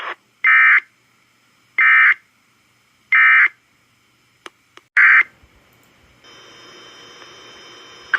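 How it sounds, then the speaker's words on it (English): An Emergency Alert System broadcast from the National Weather Service office in Sioux Falls, South Dakota plays three loud, buzzy data bursts with brief clicks. A steady electronic warning tone then starts and holds to the end. "The National Weather Service office in Sioux Falls, South Dakota has just activated the public warning alarm tone."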